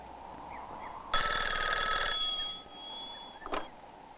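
A telephone on a callback line check rings in one loud electronic burst of about a second, then a fainter tone trails off and a brief click follows.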